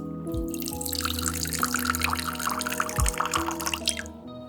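Water poured onto chia seeds to soak them: a steady liquid stream splashes and trickles into a container, with dripping tones that build and fade, fairly close and alone without talk.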